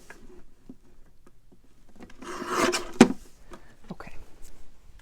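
Excess paper is trimmed off a 12-inch by 12-inch one-sheet wonder folio: a short, rasping cutting stroke rises to a sharp snap, set among quieter rustling and handling noises close by.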